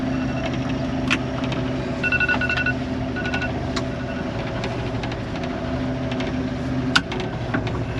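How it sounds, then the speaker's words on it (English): A mobile phone alarm beeps in short repeated electronic tones over the steady low drone of an old IH 915 combine harvester's engine, with occasional clicks and rattles. "Oh, and I got an alarm going off my phone."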